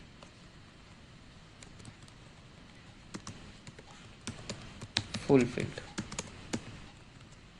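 Someone types React JS fetch API code on a computer keyboard, with scattered key taps that grow into a quicker, louder cluster near the end, while someone speaks over them.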